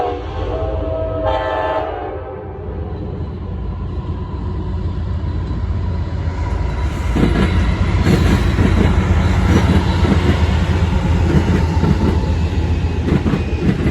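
Freight train rolling past on a Colorado line near Greeley and Denver, horn blaring briefly at first, then a loud, steady rumble of wagons with rhythmic clickety-clack building as it passes close by.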